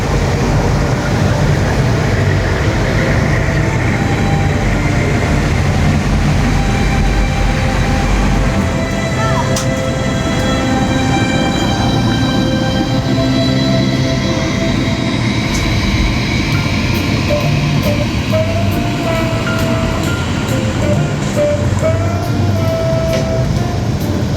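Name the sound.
Disneyland Railroad train ride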